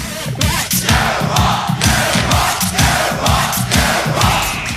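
Loud crowd roar and cheering from a dance record, layered over a pounding, steady drum beat with a Doctor Who riff, the chanting mass of voices swelling in regular pulses throughout.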